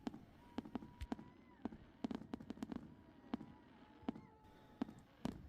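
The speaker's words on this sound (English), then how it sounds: "And then it's topped off with this spectacular display of fireworks." A fireworks display over a ski mountain sounds as a series of distant, irregular pops and cracks, quiet and spaced out, against a low background hum.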